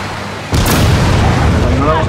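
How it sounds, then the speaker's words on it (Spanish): A sudden loud blast of rockets launching in the video game Gears of War 4 kicks in and rolls on as a sustained rumbling roar of explosions, with a voice talking over it. "¡Cohetes lanzados!"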